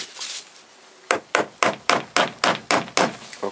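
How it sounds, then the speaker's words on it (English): A hammer taps a piston part of a Toyota VVTi engine during disassembly, one soft knock followed by a pause, then a close, even series of about eight sharp metallic strikes. "then I take my hammer. There is my hammer, and then I little bit hammer this part."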